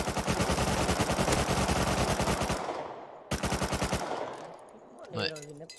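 Automatic gunfire in the online survival game Rust, long rapid bursts that are loud and dense, stopping briefly and resuming, then tailing off with a short rising electronic tone near the end.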